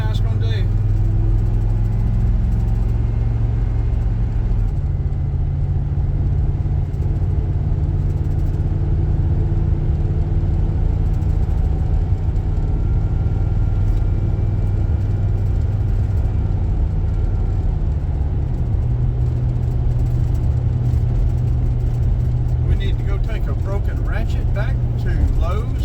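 A 2000 Chevrolet Express 2500 van drives down the road after a throttle cable replacement, its engine and road noise a steady, loud interior drone with small shifts in pitch.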